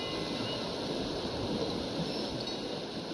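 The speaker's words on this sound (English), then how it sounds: "Wow, what a gust of wind!" Wind gusting in the sailing game Pancake Sailor, a steady broad rush of air with a surf-like wash, loud and continuous throughout with no clear breaks.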